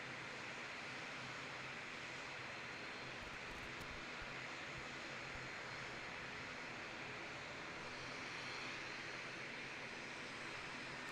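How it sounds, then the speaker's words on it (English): An ATR turboprop airliner at Christchurch Airport, New Zealand, gives off a constant, even propeller and engine drone, faint and distant, with no voices. "Give me a quick 5 out of 5s in the chat for the sound of this ATR."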